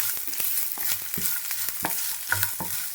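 Grated fresh coconut frying in a pan for coconut rice, a soft sizzle broken by repeated scraping and tapping of a ladle as it is stirred close up.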